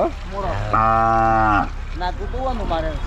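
A calf gives one long, loud, close moo at a cattle fair in Horti, India, with shorter vocal sounds just before and after.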